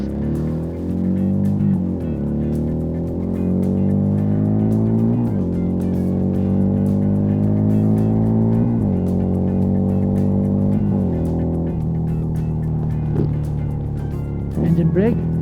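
A car engine revs up hard and loud, its pitch climbing through several gear changes in repeated rising sweeps with brief dips between shifts, heard from close by inside the vehicle.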